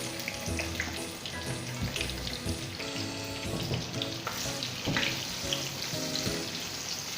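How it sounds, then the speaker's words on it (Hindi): Chopped onions frying in hot oil give off a loud, continuous sizzle and crackle that stays dense and steady with no talking. "तो ये प्याज हमने काट कर तैयार कर ली। इसे डालेंगे ऑयल के अंदर क्योंकि ऑयल गर्म हो चुका है।"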